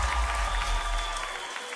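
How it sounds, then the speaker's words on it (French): A talent show audience claps briefly at a moderate distance, a steady patter of many hands over a low room hum that cuts off near the end. "Est-ce que vous pouvez applaudir pour vous-même?"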